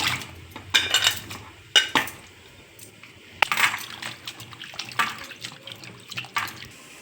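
Water splashes and sloshes as cut potatoes are washed in a vessel, with clattering knocks against a pot, in irregular bursts close by.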